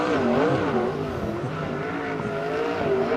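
USAC sprint car at speed on track during a single-car qualifying lap for the Western World Championship, its engine a loud, steady, wavering drone that rises and falls continuously throughout.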